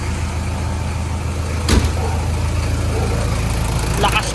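A car engine idles just after an intake system cleaning, a steady close rumble with a brief thump partway through and faint voices nearby.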